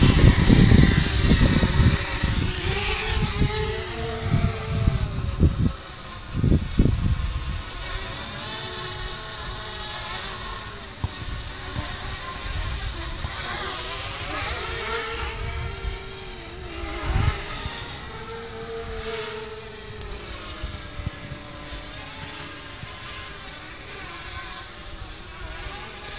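A MultiWii-controlled quadcopter's motors whine and buzz steadily for the whole stretch, pitch rising and falling as the craft climbs, swerves and hovers outdoors near trees, with brief louder gusts and thumps along the way.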